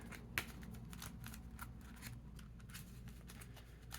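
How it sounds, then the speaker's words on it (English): Soft, rapid riffling of playing cards being shuffled close by, a steady papery flutter with one sharper snap near the start. "Take the rest of your cards and shuffle them"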